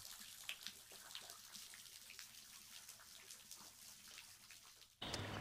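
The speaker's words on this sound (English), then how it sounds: "This is a spring in one man's front yard." Spring water in a front yard trickles and patters in a soft, continuous splashing at close range, faint overall, with a slightly louder, brighter shift in the last half second.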